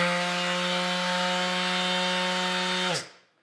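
DeWalt sander running on wood, a loud steady motor whine with strong even tones that holds for about three seconds and then cuts off and spins down.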